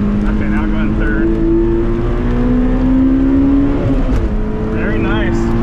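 An autocross car on a rainy Evergreen Speedway course drones loudly from inside as it accelerates, its engine pitch climbing, dipping briefly at the shift into third gear, then rising again.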